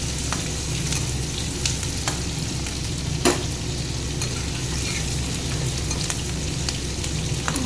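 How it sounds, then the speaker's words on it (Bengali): Green chilies and onions sizzle steadily in hot oil in a pan, a dense, even crackle with occasional sharp clicks of a utensil, and no talk. "কাঁচামরিচ আর পেঁয়াজটাকে লাল করে ভেজে নিচ্ছি।"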